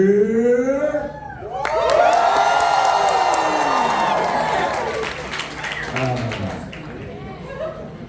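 A crowd at an anthro dance competition cheers and whoops loudly with scattered clapping, swelling after a moment and tapering near the end, with a voice briefly audible over the noise.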